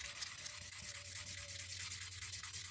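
A carnelian or smoky quartz stone is rubbed back and forth on silicon carbide sandpaper, making a continuous, quiet gritty scraping with a rapid, even stroke rhythm.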